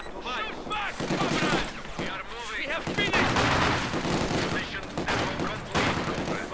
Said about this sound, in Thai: ไอ้นี่ยิงแรงมากมากผมบอกเลยว่ายิงแรงมาก